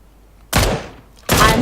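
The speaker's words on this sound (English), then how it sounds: "I notice Renella and shoot him." Two loud, close gunshot blasts about three-quarters of a second apart, each a sharp crack with a long, broad tail, fired in the video game PlayerUnknown's Battlegrounds.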